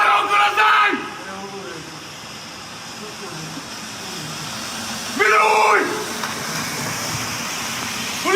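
Repeated yelling during a police arrest by three plainclothes officers in the Bežigrad district of Ljubljana, loud shouted bursts at the start and again midway over a steady street-like background with some talk.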